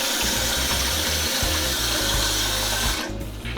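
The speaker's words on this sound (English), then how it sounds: "Okay, so add some water." Water pours into a Vitamix blender in a kitchen, a loud, steady rushing splash with a rough low rattle underneath, fading out near the end.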